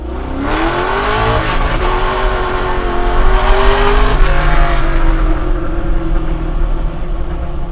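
A 600 hp custom Chevy C10 pro-touring truck revs loudly and close by, its engine note climbing and falling in repeated surges with a rough, powerful tone throughout.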